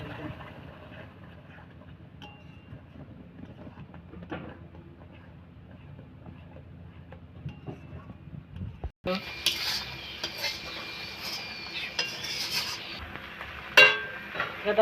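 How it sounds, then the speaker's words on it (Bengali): A utensil scrapes and stirs ground gandal (skunkvine) leaf paste in a kadai, a low steady rubbing at first, then brighter, louder metallic scraping and clatter in the second half. "এবার কড়াইতে নেড়ে নেব আবার"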